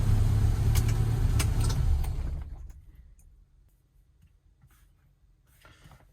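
Car engine running on electronic fuel injection, rewired after months unused: a loud, steady mid-range drone for about two seconds, then shut off and fading to a low, faint residual hum.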